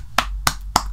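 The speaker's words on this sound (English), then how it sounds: "congratulations, I clap for you." Three sharp, evenly spaced hand claps ring out close by, each a crisp slap about a third of a second apart, with no talking.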